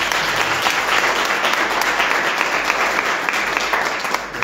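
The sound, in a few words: congregation applause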